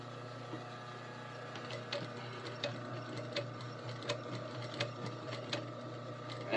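A home sewing machine stitches a buttonhole on a garment cuff: a steady mechanical hum with regular rapid clicks and ticks of the needle, close and moderately quiet, no talking.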